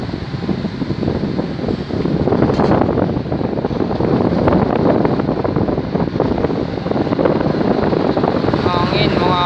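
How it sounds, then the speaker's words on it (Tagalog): Strong gusty wind roars across the microphone in a constant loud rush, with a voice speaking faintly underneath. "Oh no, ang hangin mga kalodi."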